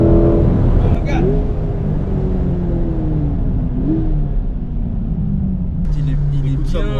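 A 500 hp car's engine drones with a low heavy rumble from inside the cabin, its pitch rising and sliding as it pulls under load, steady and loud throughout.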